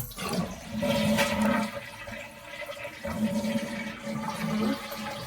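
A toilet flushes nearby in a bathroom after a handheld bidet installation, a rushing, gurgling surge of water that swells and ebbs in waves for several seconds.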